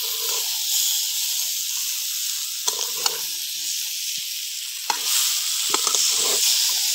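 Potatoes being stirred and fried with a ground ginger and cumin paste for a vegetarian aloo dum, a steady close sizzle broken by several sharp scraping stirs.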